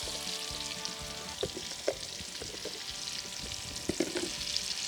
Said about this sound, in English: we're going to go ahead and dump our onions in.